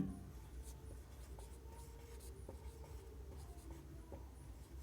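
Chalk or marker scratches across a board during a classroom lesson, a quiet run of short strokes and taps repeating at an uneven pace with no voice over them.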